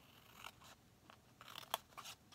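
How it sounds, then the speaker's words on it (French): Scissors snipping through paper while a scrapbooking storage box is made, giving a few quiet, scattered crisp cuts with one sharper snap near the end, close but faint. "on prend notre paire de ciseaux"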